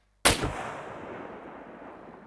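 A single sniper rifle shot from the video game SCUM fires with a sudden loud crack. A long decaying echo follows and fades over two seconds.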